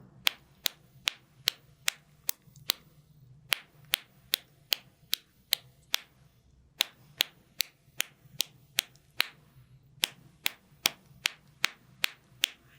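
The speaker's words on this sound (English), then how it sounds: "Now, can you use your inner voice and clap the words?" Crisp, light two-finger claps tap out a spoken-word rhythm for a children's music lesson, about two dozen sharp strikes in short grouped phrases with brief pauses between them, close and alone with no talking.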